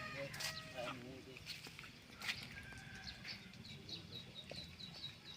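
Chickens cluck and call softly at a distance amid a noisy outdoor background after rain, with a few sharper squawks standing out.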